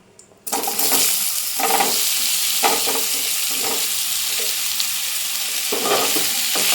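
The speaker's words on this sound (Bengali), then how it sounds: "এবার আমি আমলকিটা দিয়ে দেব।" Amla (Indian gooseberries) dropped into hot oil start a loud sudden sizzle that keeps frying steadily, broken by repeated scraping strokes of a stirring spoon against the pan.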